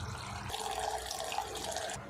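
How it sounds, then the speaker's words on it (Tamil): Water is poured into cooking masala for an egg gravy in one close, steady splashing stream lasting about one and a half seconds before it stops. "இப்போ இது கூட பார்த்திங்கன்னா நான் ஒரு அளவுக்கு தண்ணி சேர்த்திக்கிறேன்"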